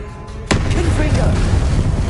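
Confringo blasting spell in Hogwarts Legacy: after a brief quiet lead-in, a sudden sharp blast erupts and rolls into a loud, rumbling wash of explosion noise that lingers to the end.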